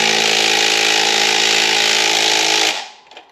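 Impact wrench on engine bolts of a Subaru Forester EJ25 during engine removal: a loud, steady mechanical whir held close for under three seconds, then cutting off into a brief faint rattle.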